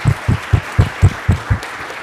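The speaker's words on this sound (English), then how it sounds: "let's give them a round of applause and thank them" After thanks to the organizers at a carbon management event, thin clapping rises in an even beat, about eight distinct hand strikes spaced roughly a quarter second apart, fairly close and dull, fading near the end.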